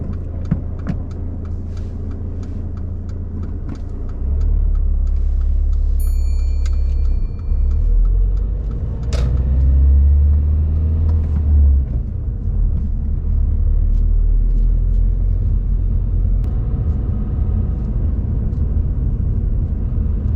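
A car pulls away during a mock driving test. A low engine rumble swells after a quiet start and holds steady and close, with no talk.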